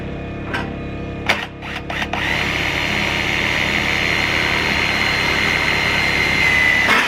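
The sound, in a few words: power drill driving screws into raised garden bed siding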